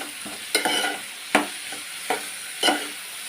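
A spoon knocks and scrapes through onions in a cooking pot for a tamarind curry; about five sharp clanks land at uneven intervals over a soft, steady sizzle.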